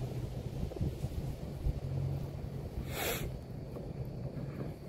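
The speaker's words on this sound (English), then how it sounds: "It is so windy." Steady wind gusting outdoors on a blustery night, a broad low rumble buffeting the microphone throughout with no pauses, and a brief hiss of something passing partway through.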